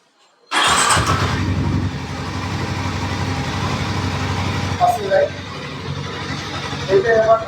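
A Harley-Davidson motorcycle engine cranks on its electric starter and fires up abruptly, then settles into a loud, steady idle close by, with a few brief voices near the end.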